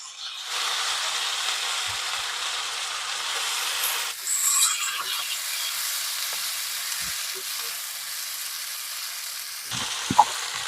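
Brinjals hit hot oil in an iron pan with a burst of loud, steady sizzling that holds for several seconds, then settles into a softer crackle broken by a few light utensil knocks near the end.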